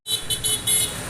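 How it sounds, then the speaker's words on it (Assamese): Busy street traffic with car horns honking repeatedly and continuously, engines rumbling beneath, at a crowded outdoor location. "তো গাড়ী ঘোঁৰা বহুত আহিছে"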